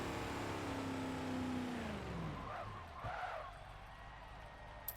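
A Ford GT40 at Spa in Forza: its engine note rises then drops as the revs fall, followed by a brief tire squeal and a short skid. Everything sits fairly faint and fades toward the end.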